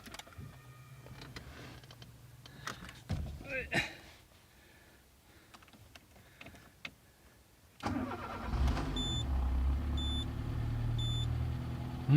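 Peugeot 206 engine with a freshly repaired muffler cranks and starts near the end, settling into a steady, loud idle hum after scattered clicks and handling noises.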